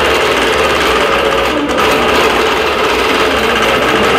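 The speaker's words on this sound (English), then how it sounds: "It just did my first stitch to let me pull up my bobbin thread. And I hit start." A computerized quilting sewing machine stitches across a vintage quilt, its loud, dense mechanical rattle running continuously and close without pause.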